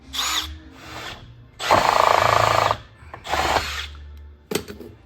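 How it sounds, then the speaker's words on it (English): A power drill with a step bit whirs in several bursts drilling through car carpet, one long steady grind in the middle, with short mechanical pauses and clicks between runs. "to drill our hole through this carpet here, we're just going to use a step bit"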